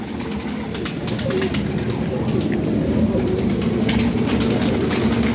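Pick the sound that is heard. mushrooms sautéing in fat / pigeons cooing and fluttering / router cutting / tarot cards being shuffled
pigeons cooing and fluttering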